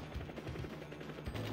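Enemy helicopter firing in an arcade video game, rapid bursts of gunfire sound effects over a busy electronic game soundtrack, steady and fairly loud, no talking.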